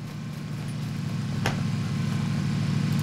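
Vehicle engine in the video game PUBG, a steady low motor drone that grows slightly louder, with a brief sharp click midway.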